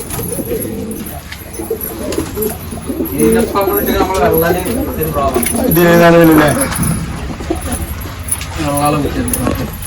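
Pigeons coo steadily in the background of a loft while a person talks over them, with a faint metallic jingle mixed in.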